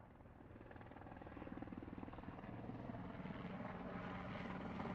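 A helicopter in the video game Yakuza 4 Remastered gives off a steady, faint rotor drone with a low rhythmic thumping that slowly swells, heard alone without speech.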